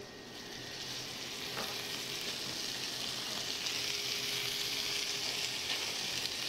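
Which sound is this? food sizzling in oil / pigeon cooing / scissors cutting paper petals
food sizzling in oil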